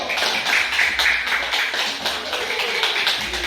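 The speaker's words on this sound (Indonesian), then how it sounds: "Tepuk tangan untuk kelompok 1." Steady applause from a class for a student group, dense overlapping claps continuing throughout at moderate loudness.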